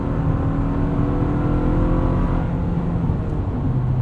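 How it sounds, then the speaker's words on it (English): A 2024 Toyota Tacoma SR XtraCab with the 2.4-litre turbo engine and eight-speed automatic, accelerating at light throttle, a loud steady engine drone with a smooth rising hum heard from inside the cab. "A little bit of subtle turbo whistle at light throttle"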